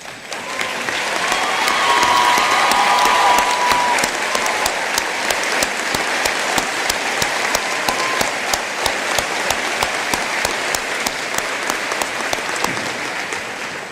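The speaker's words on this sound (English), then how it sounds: "we'd like to give you a round of applause" Graduation crowd applauding current and former members of the armed forces, a loud, sustained ovation of many hands that swells early and then holds steady with distinct sharp claps standing out.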